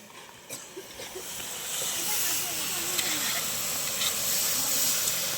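Chicken sizzling in a pan as it cooks, with whole garlic added, a broad steady hiss that grows louder and fuller after the first couple of seconds, with faint clinks and background voices.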